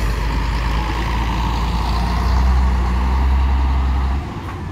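A bus arriving at a São Geraldo bus station from Minas Novas, with a heavy, close diesel engine rumble that swells and then cuts back near the end, as if easing to a halt.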